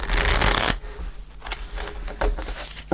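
Tarot cards riffled and shuffled by hand for a reading, a loud crisp burst of shuffling at the start followed by softer, intermittent card slides and taps.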